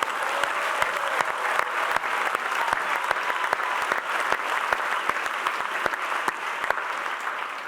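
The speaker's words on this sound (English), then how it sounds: "Maybe one more round of applause, everybody." Graduation ceremony audience giving a round of applause after a keynote address, sustained clapping from a large crowd with distinct sharp individual claps standing out, steady and moderately loud throughout.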